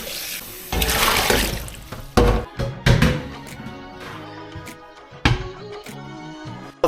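Tap water running into a large pot for chicken soup, a steady rushing fill with a few clunks and knocks of the pot in the sink.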